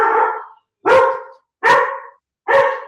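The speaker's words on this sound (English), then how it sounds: "That's my dog. Sorry about that." A dog barking nearby indoors, four loud, evenly spaced barks in a row.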